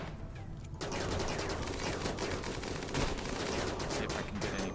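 The minigun in RimWorld fires a dense, continuous rattle of rapid shots that starts abruptly and holds at steady loudness for several seconds, with no speech over it.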